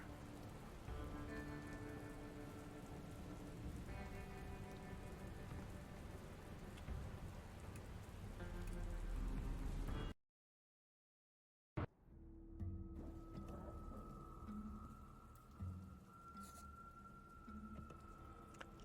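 Heavy rain falls steadily in the video game Dustland Delivery as a dense, continuous wash. It cuts out abruptly partway through, then returns quieter beneath a faint tonal hum.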